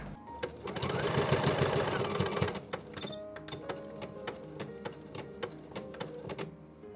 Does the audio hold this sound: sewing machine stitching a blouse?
yes